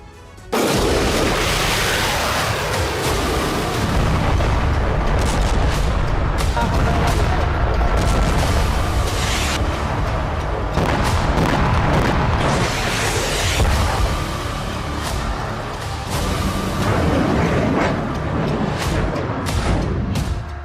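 Missile strikes and explosions over Israel, a dense, loud, continuous barrage of booms and crackling blasts with dramatic news-report sound behind it.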